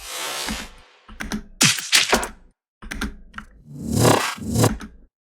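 A string of odd, processed clattering and scraping bursts, broken by short silences, sounds close and deliberately altered.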